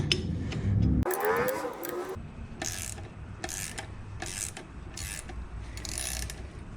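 A ratchet wrench clicks in several quick bursts while loosening the strut top nut on a Lexus, the close metallic ratcheting repeating at short intervals over a low mechanical background.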